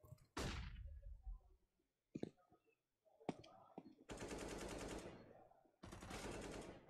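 Counter-Strike gunfire in a professional esports match: sustained bursts of automatic rifle fire alternate with single sharp shots and clatter, loud and close.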